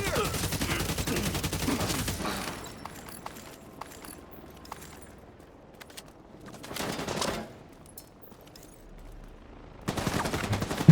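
Bursts of video game gunfire open and close the scene, with loud rapid volleys at the start and end, separated by a quieter stretch of scattered shots and a short burst in the middle.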